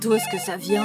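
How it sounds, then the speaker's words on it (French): A mobile phone plays a melodic ringtone in short tonal bursts, close and fairly loud, while someone speaks over it. "Je crois que c'est mon téléphone."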